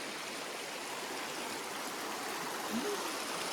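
A steady, full rush of a flowing stream fills the scene, continuous and fairly loud with no pauses.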